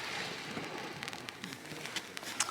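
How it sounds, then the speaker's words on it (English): Rain falls at Fort Victoria on the coast during a sea fishing session, a soft, steady hiss with scattered light ticks of drops striking nearby surfaces. "That rain's coming down a bit now."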